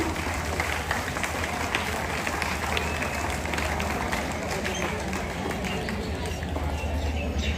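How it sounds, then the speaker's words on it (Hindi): An audience at a Bharat Vikas Parishad award function claps to welcome an award recipient, a steady, loud wash of applause that holds evenly throughout with crowd murmur underneath. "तालियां बेटा, जोरदार तालियों से मैम का स्वागत करेंगे"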